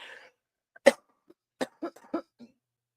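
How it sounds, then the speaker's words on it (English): Several sharp coughs, one loud burst followed by a few smaller ones, spaced out close to the mic with quiet gaps between. "I'm gonna cough now."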